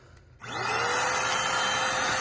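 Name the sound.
Eureka Home Mini corded stick vacuum cleaner running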